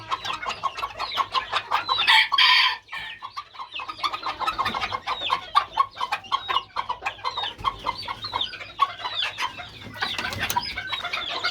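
Serama chickens clucking busily while being fed, a dense, continuous chatter of close, quick clucks and squawks that rises and falls, with no talking.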